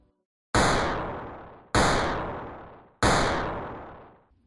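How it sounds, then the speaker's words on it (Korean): Three loud pistol shots ring out one after another in a train station, evenly spaced, each with a long echoing decay. "총소리가 기차역에 크게 울려 퍼졌어요"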